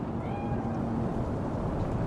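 A cat meows in a video game set in Night City. The call is faint and drawn out, heard early in the clip beneath a steady wash of ambient city noise.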